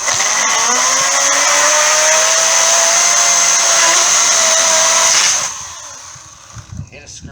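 An EGO 56-volt battery chainsaw with a 14-inch bar runs at a steady high-pitched electric whine for about five seconds, then winds down, leaving quiet handling sounds.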